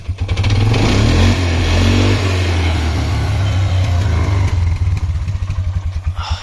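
Polaris Sportsman 335 ATV engine revving loudly and close, a rough sustained throttle blip that rises and holds, then settles into an uneven, sputtering idle as though about to stall.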